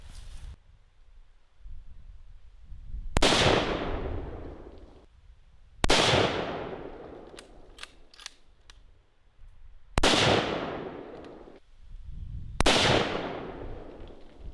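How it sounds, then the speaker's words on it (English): A rifle fires into dirt outdoors, five sharp, loud cracks spaced a few seconds apart, each trailing off in a short echo. "So let's go warm up with this rifle."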